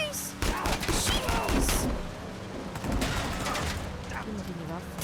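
Bursts of rapid gunfire crackle through a busy Uncharted 4 firefight, dense clustered shots at the start then scattered volleys, with a voice shouting over the action.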